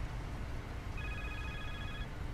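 Electronic telephone ringing inside Street Fighter V, a steady trill of high tones starting about a second in and holding for roughly a second over a dense, rumbling game soundtrack.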